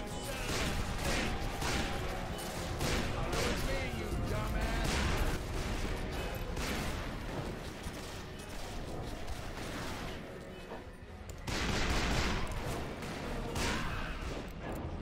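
Dense, continuous gunfire in Call of Juarez Bound in Blood, repeated loud shots and clattering impacts layered over a busy battle din, easing briefly near eleven seconds before swelling again.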